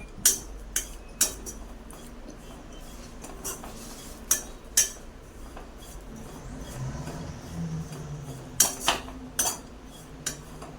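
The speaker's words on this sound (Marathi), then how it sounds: "लो टू मिडियम फ्लेमवर आहे ना भाजून घ्यायचं खोबरं हलवत राहायचं" Grated coconut is stirred and roasted in a pan over a low to medium flame. A utensil scrapes and clinks against the metal in sharp, irregular taps over a soft, steady background.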